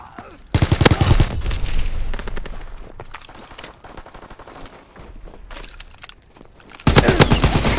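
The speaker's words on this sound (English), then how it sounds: "Enemy strafing run, inbound!" Machine-gun fire from an enemy strafing run in Call of Duty: WWII multiplayer, a loud burst at the start, quieter rattling in the middle, then another loud burst at the end.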